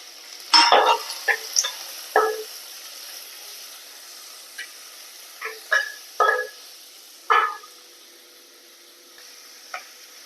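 Ten to twelve small onions (shallots) frying and being stirred in a pan, with a series of sharp, separate scraping and sizzling bursts spaced across a quiet background.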